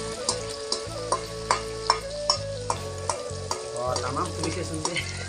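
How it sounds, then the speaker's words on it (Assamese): Beaten eggs sizzle and crackle in hot oil in a pan for egg bhurji, a steady close frying hiss broken by repeated sharp taps and scrapes of a spatula stirring the mixture. "এতিয়া মানে এইটো আন্দা ভুজি কৰি আছোঁ"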